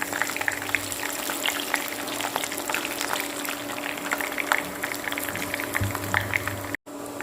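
Bay leaves and dried red chili sizzle in hot oil with coconut for khichuri, a steady, close, even frying hiss with dense crackle running for the whole stretch before a brief cut near the end.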